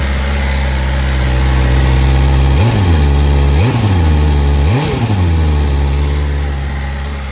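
A 2024 BMW M1000XR motorcycle engine, still in break-in, cranks and fires three times in quick succession, then settles into a steady, loud, high-pitched idle close by.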